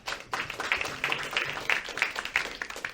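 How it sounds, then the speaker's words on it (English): Audience applause for filmmakers at a film festival panel discussion, steady clapping from a crowd with rhythmic bursts lasting throughout, moderately loud and close. "Round of applause for our filmmakers here"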